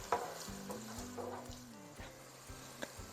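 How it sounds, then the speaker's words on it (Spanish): White wine poured into a hot pan of chicken filling sizzles quietly and steadily, with a few soft stirring scrapes and a brief low hum over the frying hiss. "Ponemos el vino, esperamos a que evapore el alcohol"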